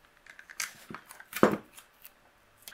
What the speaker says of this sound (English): We'll just line this up and run this through the die cut machine.